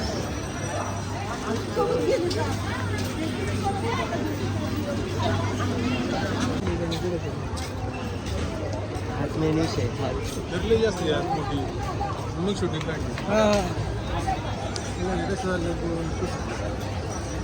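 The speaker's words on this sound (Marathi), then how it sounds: "लय गर्दी आहे बाप्पा." Dense crowd murmur fills the grounds of Omkareshwar temple, a steady close hubbub of many overlapping voices and chatter with a low constant drone underneath, never letting up.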